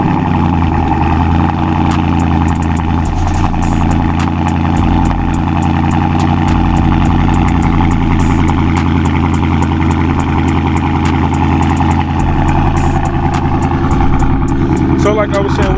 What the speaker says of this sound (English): I'm gonna hit y'all with a cold start